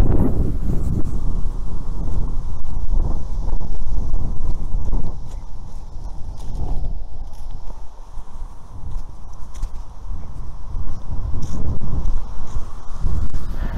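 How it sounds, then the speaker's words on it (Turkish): Strong wind buffets a microphone outdoors in an open field, a loud, continuous low rumble with gusty surges and dips throughout. "Yürüyerek konuşursam çok rüzgar mikrofonu konuştuğumuzu boğar."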